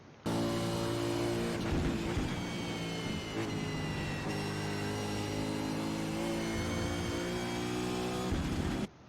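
A V8 Supercar engine in a racing sim at Brands Hatch, a loud, steady high-revving drone held near the rev limiter for several seconds with slight pitch dips during shifts, close and continuous without voices.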